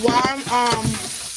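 Chicken sizzles and fries in a pan on a home stove, a steady crackle close by with faint stirring.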